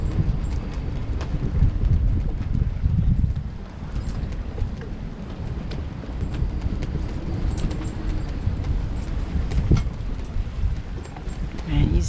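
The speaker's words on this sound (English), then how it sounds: "It's not raining, it's just windy." Steady wind buffets the microphone aboard a sailboat outdoors, a continuous broadband roar with low gusty rumble and occasional clatter, with no rain and no clear voices.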